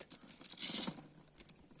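Dried slices of banana, cut the day before and sun-dried for two days, rattle and crinkle briefly when handled, a soft dry patter with one fuller burst in the middle.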